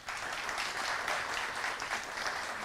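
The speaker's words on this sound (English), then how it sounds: "I would like to invite you all to join me in extending them a warm welcome through our sincere round" Quiet, sustained round of applause from a colloquy audience welcoming panelists, an even, continuous patter of many hands clapping at a distance with no voices.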